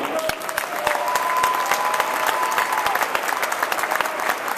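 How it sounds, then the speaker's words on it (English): A crowd at a charter schools rally breaks into steady, dense applause, with sharp claps and a few whistles ringing out over the cheering mass throughout. "let's go ahead and have a big hand for Speaker of the House, Brian Bosman"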